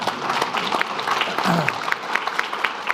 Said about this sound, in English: And we can clap for the Attorney General as well.